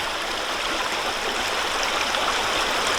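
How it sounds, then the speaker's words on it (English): Water from a gold sluicing bucket pours out in a steady, full splashing rush, close and continuous throughout. "I'm going to pour some of this water out"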